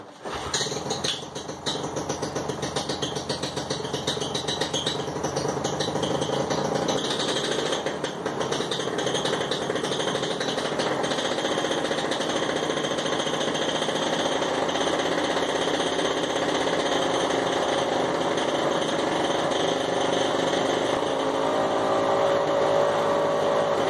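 A mini airboat engine runs loud and steady during a tune-up test run in a driveway, with a rough, buzzing roar that holds constant throughout without speech.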